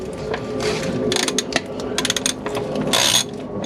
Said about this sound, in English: I'm going to take a little hex socket and we're going to start to remove this cam belt cover